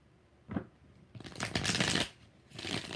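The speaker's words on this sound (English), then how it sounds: "One more shuffle." A tarot deck gets a single quick shuffle: a brief tap, then a rustling riffle, and a final shorter flurry of cards, all close and alone.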